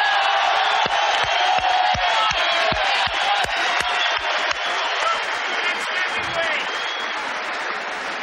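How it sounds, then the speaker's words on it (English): Boxing arena crowd at a Mike Tyson heavyweight fight, loud and continuous, cheering, applauding and chanting with whoops throughout the full length, close and dense. "The crowd chanting the next heavyweight champion, Mike Tyson."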